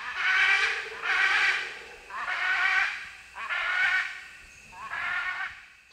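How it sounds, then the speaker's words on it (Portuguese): Howler monkeys and macaws calling in the distance in the Costa Rican forest, in five loud, drawn-out roaring bursts about a second apart with short gaps between them. "São araras e macacos uivadores na distância."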